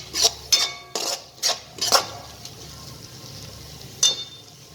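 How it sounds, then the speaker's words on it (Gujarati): A spoon stirs boiled potato with chaat masala in a metal bowl, making a quick run of five sharp clinks and scrapes, a pause, then one more clink, all close and clear. "હવે આને આપણે બરાબર હલાવી લઈશું."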